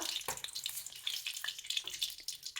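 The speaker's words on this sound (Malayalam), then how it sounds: "ഇനി ഇതിലേക്ക് തന്നെ കുറച്ച് വെളിച്ചെണ്ണയും കൂടെ ഒഴിച്ചതിന് ശേഷം അതിലേക്ക് 1/2 ടേബിൾ സ്പൂൺ ഉലുവ ഇട്ട് കൊടുക്കാം." Fenugreek seeds sizzling in hot coconut oil for a Kerala okra and tomato curry, a close crackling fry with quick spitting pops and light clinks throughout, no voices.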